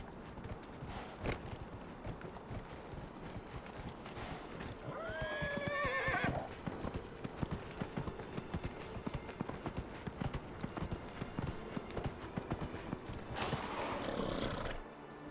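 A horse in the Dragon Age Inquisition video game clip-clops at a steady gait, hooves beating continuously, with a whinny early on and another near the end, close and prominent with no talk.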